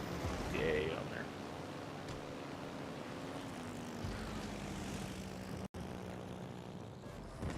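A propeller aircraft drones steadily overhead in World of Warships, a continuous engine hum with a slowly falling pitch, fairly loud and persistent under a game's background noise.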